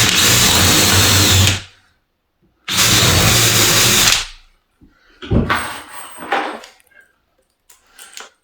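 Power drill driving a 70mm screw through a door casing on a building site, two loud sustained whirring bursts of about a second and a half each, followed by quieter knocks and handling clatter.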